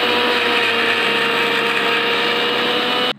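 A kitchen mixer grinder runs at full speed with a loud, steady high-pitched whine and motor hum, then cuts off abruptly at the end.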